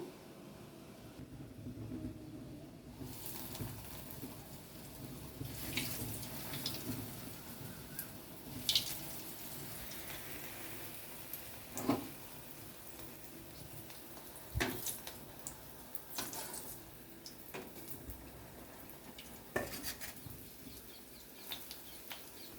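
Bread deep frying in sunflower oil gives a steady, close sizzle with scattered sharp crackles and pops. No one speaks.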